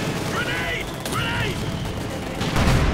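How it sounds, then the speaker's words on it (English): Distant mortar and artillery fire rumbles through a Company of Heroes 2 battle, with low booms and scattered gunfire under a dense, continuous din of game sound. "Mortar rounds really taking a toll as well."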